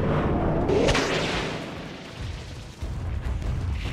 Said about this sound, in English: Dire's bottom tower is destroyed